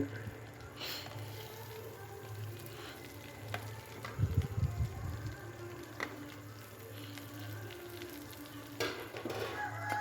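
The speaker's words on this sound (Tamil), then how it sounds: "கடுகு பொரிஞ்ச வந்தோடனே வெங்காயத்தை போடுங்க." Onions go into hot oil after the mustard seeds have popped, for a Tamil-style liver gravy. A steady low sizzle runs throughout, with a brief louder burst of frying and stirring in the middle, and no talking.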